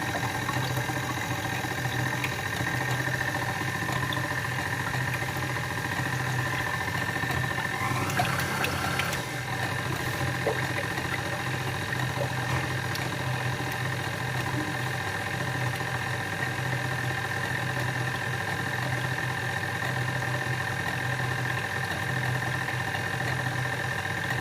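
Electric mixer beating cream and vanilla for choux pastry filling, a steady motor whir and hum that runs the whole time with a brief surge partway through, and no talking.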